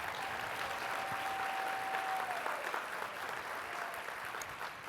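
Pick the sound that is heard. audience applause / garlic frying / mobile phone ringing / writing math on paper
audience applause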